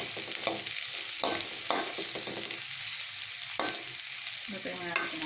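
Ground chicken sizzles in a pan for ginisang ampalaya, with repeated scraping stirs and clacks of a utensil breaking up the meat over a steady fry hiss.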